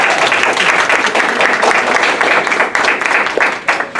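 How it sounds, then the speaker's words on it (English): Loud, dense audience applause fills a piano awards ceremony, a continuous close crackle of many hands clapping with small surges and no talk over it. "so a big warm applause"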